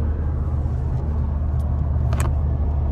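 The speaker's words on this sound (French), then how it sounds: "je vous ai montré comment passer les vitesses" A car engine drones close by in a steady low rumble while the driver shifts gears without using the clutch, with a faint higher whine rising briefly near the end.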